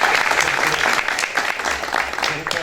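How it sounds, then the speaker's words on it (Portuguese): Applause from an audience at a municipal culture council election assembly in Canto do Buriti, steady clapping filling the room throughout with some voices mixed in. "Uma salva de palmas"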